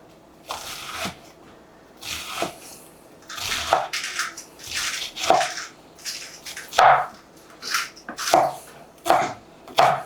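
A knife slices down through an onion turned on its side on a cutting board, giving about a dozen crisp, juicy cuts in an uneven rhythm, each ending in a sharp tap on the board, close and loud.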